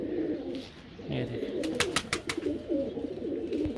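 Pigeons coo nearby in soft, rolling calls, with a few sharp clicks and rustles and someone speaking briefly over them.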